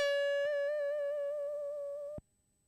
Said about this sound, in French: Et c'est le son de ma 303 qui sort.